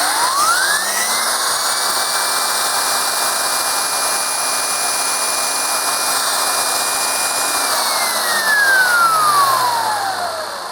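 An Electrolux Epic 6500 SR vacuum cleaner spins up to a loud, steady high-pitched whine over a broad rushing airflow. The motor holds its pitch for several seconds, then winds down near the end.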